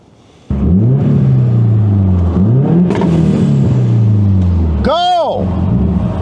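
A built Subaru WRX with anti-lag, started after sitting for four years, idles loudly and close by with a steady low rumble, then revs in rising and falling sweeps, with a sharp climbing rev near the end.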